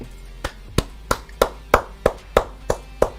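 Eight slow, evenly spaced claps from a single person, close and crisp, with no voices over them.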